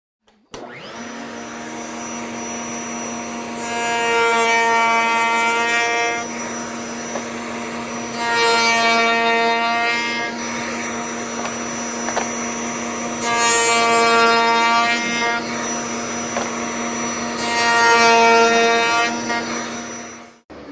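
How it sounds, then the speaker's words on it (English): A router makes two cope cuts on cabinet rails for glass-insert panels, a loud steady whine running for several seconds each pass over a continuous motor hum, with short pauses between cuts. "we'll turn our router on here and make our 2 cope cuts."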